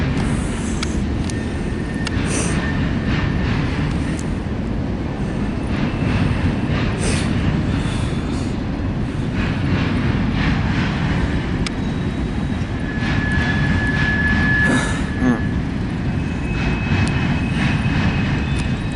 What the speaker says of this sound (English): That's where they're taking those boxcars to the island.